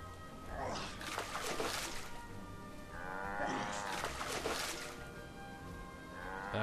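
In Guild Wars 2, cattle low in two long, loud moos heard close by, one after the other. A splash of water sounds faintly beneath them.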